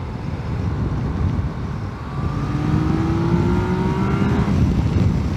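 A 2018 Yamaha Tracer 900 motorcycle rides at speed, its engine a steady close roar that climbs in pitch as it accelerates, with a droning rush of wind throughout.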